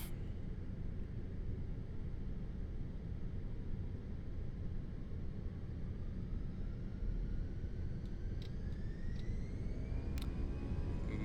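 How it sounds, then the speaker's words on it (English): Airbus A320 jet engines spooling at takeoff thrust in Microsoft Flight Simulator 2024, a steady loud broadband roar with a rising whine building toward the end, no voices. "Takeoff thrust set."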